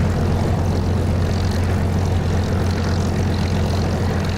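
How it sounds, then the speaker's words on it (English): Aircraft engine in the DCS flight simulator game, a steady loud propeller drone with a strong low hum, continuous and alone throughout. "My seat is giving me a good shaking at the moment with the engine sounds."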